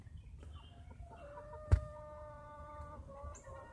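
Chickens clucking nearby in a small flock, several overlapping tonal clucks and short calls with one sharp knock partway through, moderately quiet with no talking.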